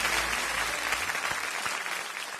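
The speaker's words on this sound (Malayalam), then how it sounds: "ലക്ഷ്മിക്ക് കയ്യടി." Studio audience of a Malayalam reality game show claps for a contestant, a steady, full burst of many hands that slowly eases off toward the end.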